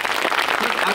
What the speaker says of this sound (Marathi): रसिक प्रेक्षकांना मी विनंती करतो की एकदा जोरदार टाळ्या